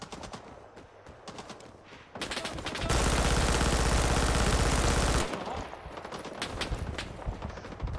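Submachine gun fire in the jungle shooter Rising Storm 2, scattered shots building into a loud, continuous burst of rapid automatic fire, then tapering back to intermittent gunfire.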